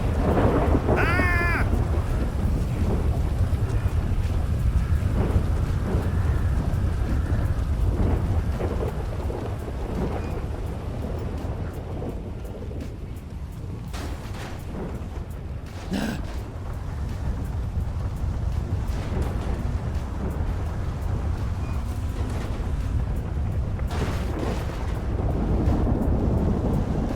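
A thunderstorm in the GTA 5 video game, set in Los Angeles: steady heavy rain with deep rumbling thunder rolling throughout and a sharp crack partway through, loud and continuous with no voices.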